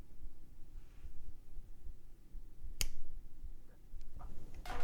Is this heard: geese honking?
no